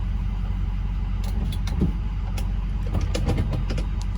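A Ford 6.0 Powerstroke diesel truck fitted with a new exhaust tip drives along with a steady, close, low engine rumble, and a few faint clicks and ticks sit over the drone.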